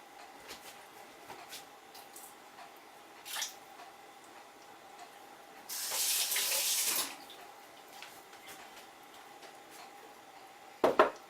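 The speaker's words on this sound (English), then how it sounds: "I'm going to put a splash of hot water." A brief splash of hot water is poured into a container of cultured vegetables, forming a single loud gush of about a second amid quiet surroundings, with a few soft clicks and handling noises around it.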